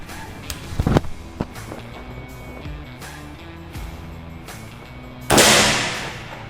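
A sharp pneumatic crack of a PCP Ghost Warrior DB 300 air rifle shot, with a loud burst of hiss afterward, against a steady background hum.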